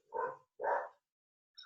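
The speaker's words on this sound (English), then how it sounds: "if you can hear my dog barking" A dog barks twice from a distance upstairs, two full separate woofs about half a second apart, followed by a faint short yip, with silence between and no one talking.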